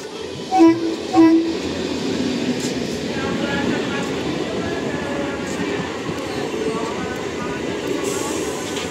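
A commuter train rumbles past steadily and close, with two short horn blasts near the start and a constant roar of wheels throughout.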